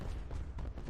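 Fireworks in the Lanesmash video game going off in a rapid run of sharp, booming bursts, loud and dense, near the end of a match.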